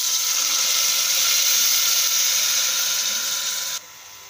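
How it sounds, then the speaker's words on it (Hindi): Water poured into browned onions in a hot pan for a Punjabi rajma curry hisses and sizzles loudly and steadily for nearly four seconds, then drops off sharply to a quieter simmer. "अब इसमें हम इसमें थोड़ा सा पानी डाल देंगे"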